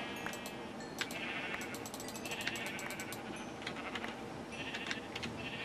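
Several Minecraft sheep bleat in short repeated calls over a steady background hum, some overlapping, moderately close and fairly quiet.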